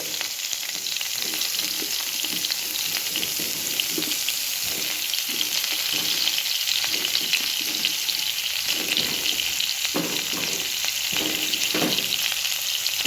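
Carrot, potato, papaya, radish and eggplant pieces frying lightly for shukto, giving a continuous loud sizzle with repeated stirring scrapes throughout and no talking.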